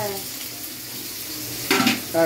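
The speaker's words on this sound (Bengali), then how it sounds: "শুকনো লঙ্কা, তেজপাতা, গোটা জিরে, দারচিনি, লবঙ্গ, এলাচ ফোড়ন দিলাম, এবার পেঁয়াজটা দিচ্ছি" Onions going into oil tempered with dried red chili, bay leaf, whole cumin, cinnamon, clove and cardamom for mutton curry, a quiet hiss followed by two brief louder bursts of sizzling and stirring near the end.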